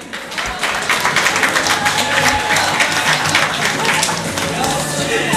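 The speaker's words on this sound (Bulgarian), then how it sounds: "Аплодисменти!" Loud, sustained applause at a store event in Vidin, Bulgaria, a thick, even wash of many hands clapping close by with no break.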